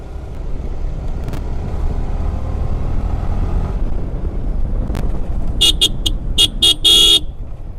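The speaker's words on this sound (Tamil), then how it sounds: "என்னடா ஹார்ன் இவ்வளோ சவுண்டாக இருக்குது" A car horn honks loudly in a burst of repeated short blasts near the end, over steady road and engine noise from a moving vehicle on a highway.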